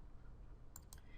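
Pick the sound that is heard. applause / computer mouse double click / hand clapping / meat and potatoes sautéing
computer mouse double click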